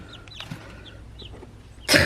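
Backyard chicks under a heat lamp make a few faint, scattered cheeps and soft clucks over low background hum, ending in a sudden loud rustle or knock.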